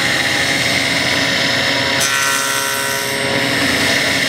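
Power saw running steadily while cutting wood tenons in a workshop, a continuous loud whine with a slight dip in the middle of the cut.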